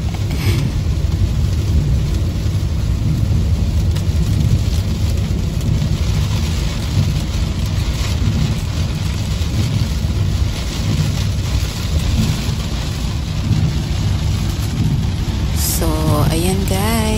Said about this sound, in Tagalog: Kasi mas malakas yung buhos ng ulan